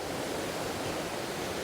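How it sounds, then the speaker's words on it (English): A waterfall in a forest glen swollen by recent rain gives off a steady, even rushing roar, a continuous distant wash of falling water with no voices. "I can kind of see part of the waterfall straight ahead of me here"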